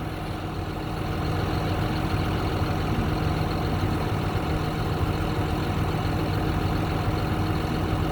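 An old rake tractor with roughly 11,000 hours on it idles steadily at close range, a continuous low engine rumble with a faint mechanical whine that holds level throughout, with no voices.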